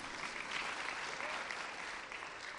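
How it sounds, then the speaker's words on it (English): Soft, steady applause from the audience at a Seattle mayor's budget address, a continuous wash of distant clapping with no break. "Yeah, you can clap for them."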